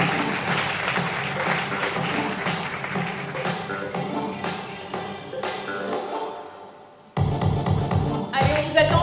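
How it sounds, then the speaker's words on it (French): Audience applause at the 2022 Strategies media innovation awards as winners come up on stage: dense, sustained clapping from a full room, dipping briefly before surging back loud near the end. "On les applaudit et ils me rejoignent sur scène."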